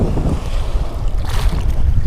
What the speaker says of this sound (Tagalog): Malakas yung hangin ngayon ah.